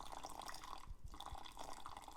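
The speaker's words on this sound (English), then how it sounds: "Add hot water in each bowl." Hot water splashes and trickles steadily into a bowl of jello mix, a soft liquid pour with a few low thuds partway through.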